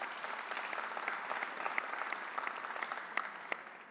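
A round of applause from an audience at a New York State government vaccine briefing, steady clapping with a few sharper individual claps, moderately distant and filling the room for about four seconds.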